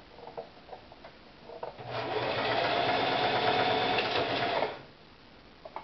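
Sewing machine running a test stitch on new fabric for a pink camo crewneck, a steady continuous whirring hum of about three seconds after a few faint handling taps, then stopping.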